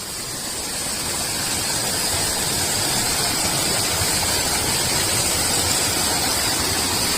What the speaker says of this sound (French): voilà la petite rivière